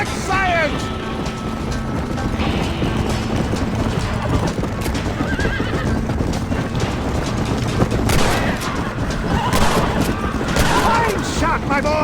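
Gunfire in Red Dead Redemption rings out amid clopping horse hooves and whinnying horses, a busy, loud mix with shouting voices over a steady background rumble.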